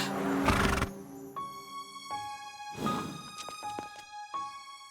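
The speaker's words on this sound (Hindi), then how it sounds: "वीर, देखो, बंटी ने घोड़े को टक्कर मारी।" A racehorse in an animated children's action film neighs loudly after being bumped, giving a close, ringing whinny with a couple of shorter snorting calls that follow.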